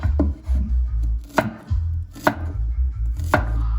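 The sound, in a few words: knife chopping scallion stalks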